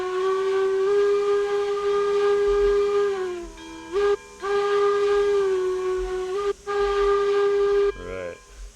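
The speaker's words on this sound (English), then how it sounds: "We definitely have a unique whistle." A steam locomotive whistle in the video game RailRoads Online sounds in long, steady chime-like blasts with short breaks, ending with a quick short toot, heard clearly without talk.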